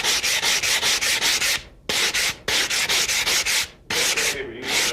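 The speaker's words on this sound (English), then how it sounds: "All this is just a hand sander with a little bit of sandpaper on it." A hand sander fitted with sandpaper smooths a part for a 1911 pistol: steady, loud rasping strokes in quick rhythmic bursts, broken by a few short pauses, close up and with no talking.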